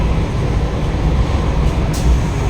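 A train rumbles steadily along with a dense, low roar and rushing noise, continuous and fairly loud throughout, heard from on board.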